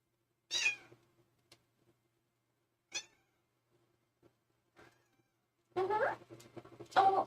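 A cat meows several times in a quiet room: short, separated cries spaced a few seconds apart, ending in a longer, louder pair of meows close by.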